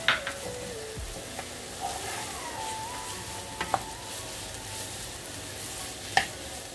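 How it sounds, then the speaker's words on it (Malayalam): Grated coconut sautéed in a pan gives a faint, steady sizzle, punctuated by a few sharp scrapes and taps of a spoon stirring against the pan; no one speaks. "ഒരു മിനിറ്റ് ഒന്ന് വഴറ്റിയെടുക്കാം."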